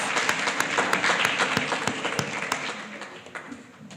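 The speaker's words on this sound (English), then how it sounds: "Give him a round of applause." Audience applause at a primary school Grade 7 prize giving ceremony, dense steady clapping from a seated crowd for about four seconds, tapering slightly near the end.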